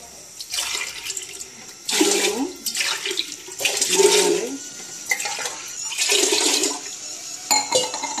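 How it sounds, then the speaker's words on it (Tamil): Measured water is poured over rice in a large pressure cooker, heard as several rushing, splashing bursts of close, loud water separated by short breaks. "தண்ணி அளந்து விட்டுறேன்"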